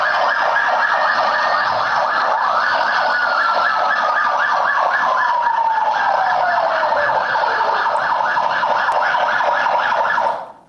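An ambulance siren wails loud and close in a fast repeating warble, with one long descending tone sliding down through the middle before the sound cuts off abruptly near the end.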